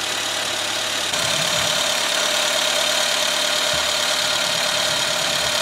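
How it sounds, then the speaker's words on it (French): A carburetted car engine idles with the hood open on a small four-wheeled vehicle likened to a moped, a steady close mechanical hum with a faint knocking pulse and a slight step up in level early on. "On va ouvrir le capot, tant qu'à faire."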